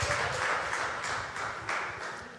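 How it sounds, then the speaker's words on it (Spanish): A church congregation claps loudly together in a large worship space, a dense burst of hand claps with slight surges, with some low murmuring beneath. "Denle un fuerte aplauso al Señor."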